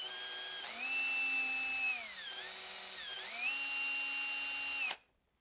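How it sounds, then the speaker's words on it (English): A power drill whirs steadily at close range, its pitch dipping and rising twice as the load changes, then cutting off abruptly. "I have this drill here"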